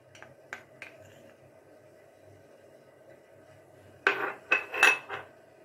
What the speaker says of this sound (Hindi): हमारा दूध उबल रहा है, हम कस्टर्ड को दूध में मिक्स कर लेते हैं।